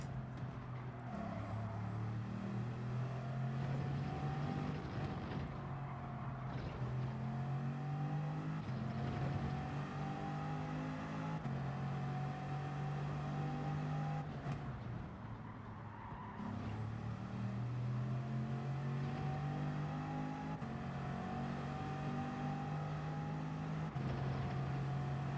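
A race car engine in Gran Turismo 7 on a European circuit drones loudly and continuously, revving up through gears with repeated shift breaks and rising pitch sweeps, no talking.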